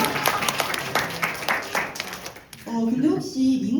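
An audience claps for about two and a half seconds at a light Korean speech event. The clapping stops abruptly and a voice follows right after.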